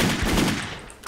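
The SCAL WKS rifle in the game Wolfteam fires a short, dense run of rapid shots, loud and close, fading slightly at the end.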